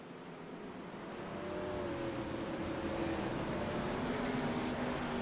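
ARCA race cars accelerate out of turn 4 on a restart at Nashville Fairgrounds, a steady rising engine roar that swells after the first second and holds loud and continuous, with rising harmonic whine, no talk.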